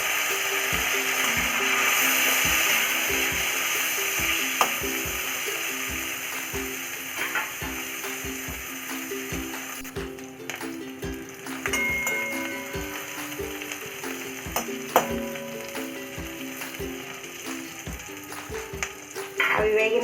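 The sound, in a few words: green chillies and curry leaves frying in a pan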